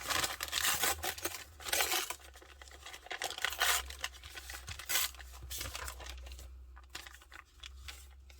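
A brown paper bag tears and crinkles close by in repeated rough bursts, quiet overall, with rustling handling between the rips.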